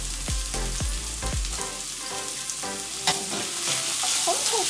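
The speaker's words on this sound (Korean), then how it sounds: "여기다가 바로 이제 마늘 넣자." Garlic sizzles as it is dropped into hot oil with green onion in a pan for spicy budae jjigae. A few metallic clanks come first, then a steady, close frying hiss.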